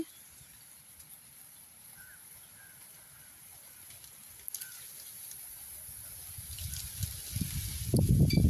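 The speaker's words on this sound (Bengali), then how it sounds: "এরপরে আমি জল দিয়ে দেবো" Water is poured into a cooking pan of sautéed potatoes and pointed gourd, starting as a faint trickle and swelling into a loud, splashing gush over the last couple of seconds.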